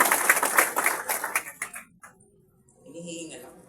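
An audience claps at a seminar, a burst of brisk applause that fades out within two seconds, followed by someone speaking.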